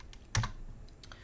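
Typing on a computer keyboard: a few sharp, close key clicks, with one louder pair near the middle and lighter taps after, over faint background hiss.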